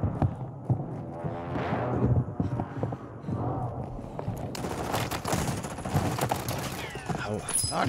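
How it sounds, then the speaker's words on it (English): Repeated gunshots crack in Call of Duty Warzone 2, scattered bursts at mid distance that grow into rapid fire, with a player talking between the shots. "More shots popping off."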